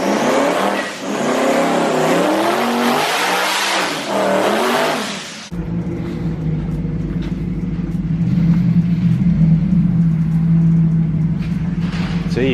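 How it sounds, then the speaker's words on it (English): A twin-turbo Mustang does an aggressive burnout, starting as a loud, dense roar of revving and tire noise, then dropping abruptly to a steady low engine rumble that carries on to the end. "I do a pretty aggressive burnout."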